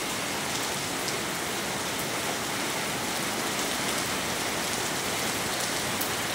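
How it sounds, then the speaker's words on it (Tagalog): Heavy rain pours down steadily, a dense, even hiss of drops drumming on surfaces with no break and no voices. "Lakas ng ulan oh."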